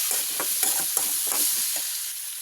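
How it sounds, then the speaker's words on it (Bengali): Chili powder being stirred into a lentil fritter mixture, a series of soft close scraping and squelching stirs in rapid irregular rhythm over a faint background hiss, with no voices. "দিয়ে দিচ্ছি মরিচের গুঁড়ো 2 চামচ, ভালো করে নাড়া দেবো"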